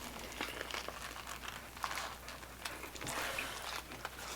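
Paper wrapping around a Nashville hot chicken meal and naan crinkles and crumples close up in steady, scratchy bursts, with soft crackles throughout and no talking.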